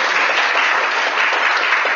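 Sustained, dense applause from an audience at a tech meetup honoring a speaker, steady and loud throughout two seconds with no pauses.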